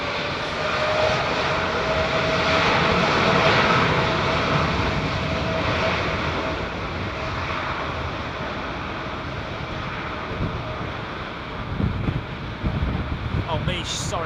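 A new Airbus A320neo-family jet departs Heathrow Airport in gusty pre-storm weather, its engine roar loud and sustained over steady wind noise, with people chatting nearby underneath it.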